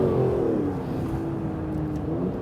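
An Aston Martin DB11 drives hard on a wet handling circuit, its heavy, powerful turbo engine holding a loud, steady drone that rises gently in pitch, heard close with no talk.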